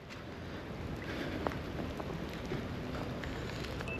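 Steady rain falls outdoors as a dense, even wash of patter with wind buffeting the microphone, continuous and moderately loud for the whole stretch with no talk.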